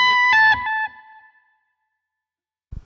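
Electric guitar with effects plays a short lick, a few quick bright notes that ring out and fade over about a second, followed by silence and a brief low thump at the end.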